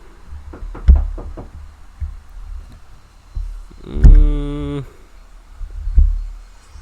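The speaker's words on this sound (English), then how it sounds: "I can hear him knocking on the door." Knocking on a door: a quick run of dull raps near the start, then a lone brief droning hum and a couple of heavier thumps, all fairly close against a quiet room.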